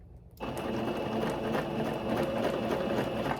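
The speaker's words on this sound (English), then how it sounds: "you're going to back stitch to hold it into place. And then you're just going to sew a straight line" After a short quiet start, a sewing machine runs steadily, stitching ribbon onto a tutu skirt with a close, even mechanical whir and rapid needle rhythm.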